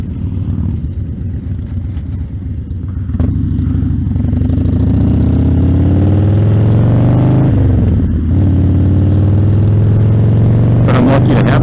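An engine idles close by, then climbs through rising revs in a smooth, loud drone that dips briefly before pulling up again.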